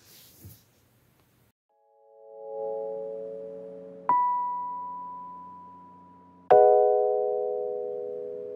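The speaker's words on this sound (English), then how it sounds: "someone just rang our bell to ask us something" An electronic doorbell sounds indoors: a sustained tone followed by two clear chime strikes that ring out and slowly fade, with near silence before.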